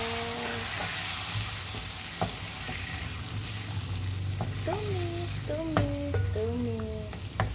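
Chicken stir-fried with turmeric powder for tongseng, a constant loud sizzle with occasional clacks of a utensil against the pan and a faint voice in the background.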